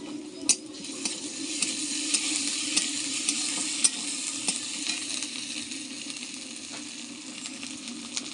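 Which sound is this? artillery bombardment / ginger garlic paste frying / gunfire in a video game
ginger garlic paste frying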